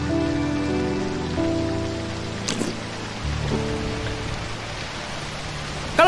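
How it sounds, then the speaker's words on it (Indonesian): Heavy rain falling steadily as a soft, even hiss, with faint tonal music underneath and a brief sharp knock near the end. "Hujannya deras sekali."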